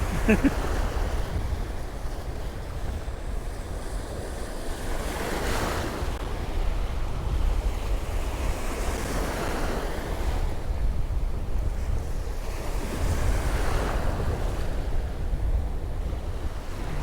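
Sea waves break on Cromer beach around a wader-clad angler, a steady close wash of surf swelling and breaking every few seconds under gusting wind noise.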